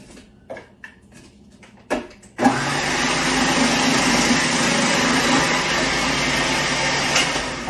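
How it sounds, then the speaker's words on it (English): An old small food processor shreds cabbage for slaw, starting with a few sharp clicks and clunks before the motor kicks in to a loud, steady whirring grind that runs unbroken to the end, with no talking. "I just love this little food processor."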